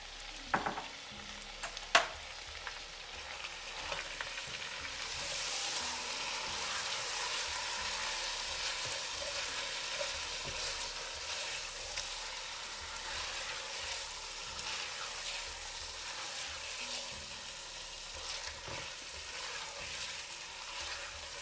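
Meat for a barley and meat dish frying in a pot, a steady broad sizzle running throughout with a few sharp clinks and scrapes early on, close and moderately loud, no voices.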